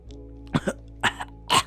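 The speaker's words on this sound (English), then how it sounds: "Neji coughs up blood as he feels one of his lungs collapsing" Three short, harsh coughs in quick succession, each a close burst with a brief rasping tail, and the last the strongest, with no talking.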